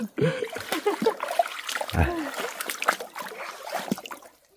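Water flowing and splashing in a stream where fish traps are being checked, a busy close wet rush with irregular splashes and gurgles, under faint voices and handling noises.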